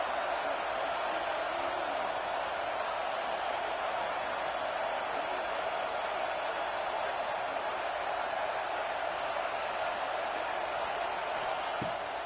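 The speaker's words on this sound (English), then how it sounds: "this crowd is at fever pitch" Stadium crowd roar in the College Football 26 video game during an Alabama dynasty third-down play in the red zone, a steady, dense wash of cheering that holds at an even level throughout with no talk over it.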